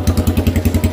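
A 150cc motorcycle engine running with a straight exhaust pipe only, loud and close, with rapid, evenly spaced deep thumping pulses of a single-cylinder idle.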